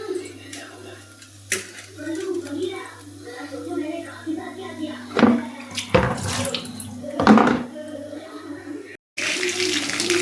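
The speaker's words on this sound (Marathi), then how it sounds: "धुवायचं बघा 2 पाण्याने" Vegetables are washed in water in a home kitchen, with running water, splashing and clattering close by. The sloshing rises and falls unevenly, with occasional soft voices underneath.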